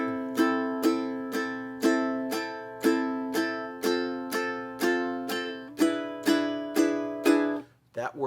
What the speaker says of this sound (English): A down strum works well here.